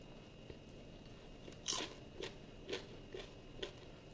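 Crispy popcorn bites made from idli crunch up close in several sharp, distinct bites, one strong crunch followed by a series of smaller ones against a quiet background.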